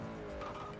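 A 1994 Honda Civic, front-wheel drive, drifting in Forza Motorsport 4, its tires squealing under a steady engine drone in a brief, faint burst, with no talking.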